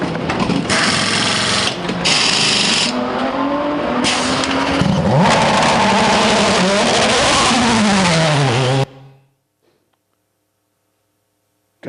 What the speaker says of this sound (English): There's nothing like car racing.